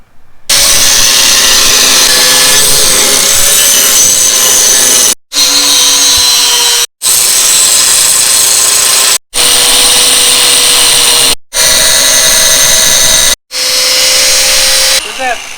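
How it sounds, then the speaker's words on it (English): Steel being ground down on a cradle cart during a welding build, a loud sustained abrasive whine running in several long bursts separated by brief stops, close to the listener. "you're going to grind down so we can put the wheel on there"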